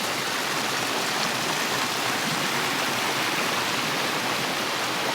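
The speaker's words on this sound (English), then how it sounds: "A little pond and a waterfall." A small waterfall in Hackfall Woods, Yorkshire, tumbles into a little pond, making a continuous close rushing hiss that stays steady and even throughout, with no voices.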